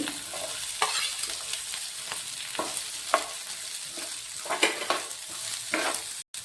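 Finely chopped onion fries in a pan with urad dal and green chillies, a steady close sizzle broken by occasional scraping stirs, moderately loud with no voices.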